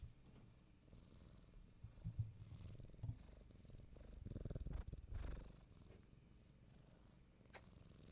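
A cat purrs steadily up close in a quiet indoor room, a continuous low rumbling purr with a few louder swells midway, heard alone with no talking.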